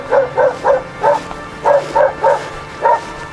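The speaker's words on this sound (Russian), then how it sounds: "Там уже собака лает. Она уже давно лает. Причем ее лай от леса так отражается эхом." A dog barks repeatedly in the distance near a remote village by a narrow-gauge railway station, each bark echoing off the surrounding forest in an otherwise quiet setting, with about eight evenly spaced barks.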